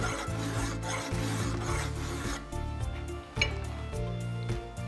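Hand filing on the knuckle fitting of a sub-gauge shotgun barrel set for a Beretta DT11, a steady rasping stroke repeated in a regular rhythm, close and fairly loud, with a faint metallic clink partway through.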